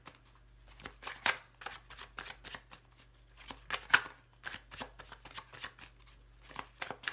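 Soft handling of tarot cards, a quick run of light papery flicks and slides as a card is turned over, quiet and close with no talk.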